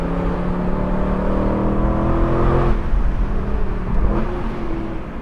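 A 2012 Aston Martin V8 Vantage engine roars loudly and steadily while climbing a canyon road, its deep growl holding strong with rising and shifting tones throughout.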